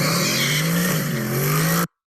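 A car spins off and speeds away during a police foot chase, its engine droning loud and steady with a rising whine for nearly two seconds before cutting off abruptly into silence.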